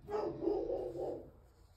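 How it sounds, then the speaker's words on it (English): A dog barks indoors, a short run of a few close barks blending together over about a second before fading into quiet room tone. "Oh, there goes my dog, right on cue."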